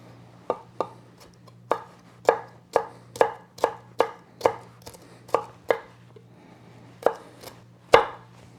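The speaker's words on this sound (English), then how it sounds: "So now we're going to dice our red pepper." Red pepper being diced with a knife on a cutting board, about fifteen crisp, separate chops in an uneven rhythm, loud and close with quiet pauses between them.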